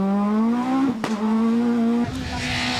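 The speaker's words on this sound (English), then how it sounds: "The Princeton's Renault is back on form, and he's out to try and win it if he can" A Renault rally car at the 1998 Ypres Rally roars past with a loud, sustained engine note that holds steady, dips briefly at a gear change, then breaks into rougher noise as it passes close by.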